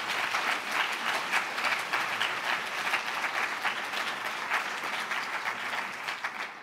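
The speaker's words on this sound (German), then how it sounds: "wir wollen gerne einen großen Applaus loswerden für Sigmund Spengler" An audience gives a big round of applause for Sigmund Spengler at a church gathering, steady dense clapping filling the room for several seconds without letup.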